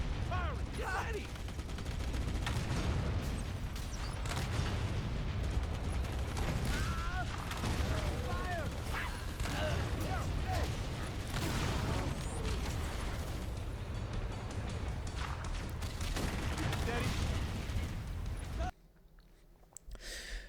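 Halo CE gameplay fills the mix with dense, continuous game gunfire, rapid bursts and mechanical clatter, loud and sustained for nearly twenty seconds. Voices call out over it before it drops off abruptly near the end.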